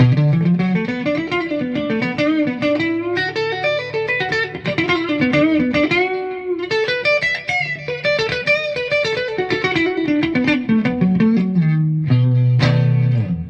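A G&L G-200 electric guitar plays a melodic run on its neck pickup with the small toggle in the middle position, close and continuous with a slightly driven, effects-coloured tone and no talking.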